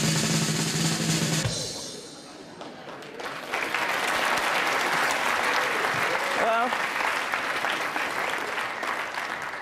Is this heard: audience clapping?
yes